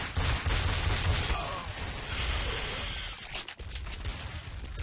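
Pistol fire and rapid gunshots from Counter-Strike: Source in gun game mode, a steady stream of crackling shots and mechanical game noise running continuously with a brief dip near the end.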